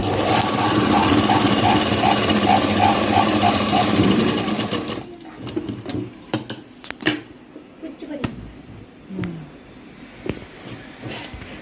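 A sewing machine runs a large stitch along the folded hem of a blouse, whirring steadily and fast for about four seconds before stopping. Scattered clicks and light handling noises follow at a lower level.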